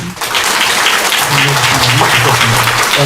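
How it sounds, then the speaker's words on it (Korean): Applause from a church congregation during a Sunday service, a dense steady patter of clapping over the whole stretch with a voice and some tonal sound running faintly beneath. "인사할 때 큰 박수로 다시 한번"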